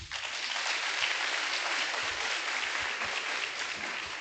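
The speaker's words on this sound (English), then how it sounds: "Another clap, please." At a smart lab and robotics project launch, an audience keeps up a steady, even wash of applause from start to finish, moderately loud and unbroken, with a few low thumps beneath it.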